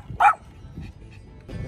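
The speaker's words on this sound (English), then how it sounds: "Ziggy, who are you barking at?" A single sharp dog bark, close and loud, followed by a few quieter muffled sounds.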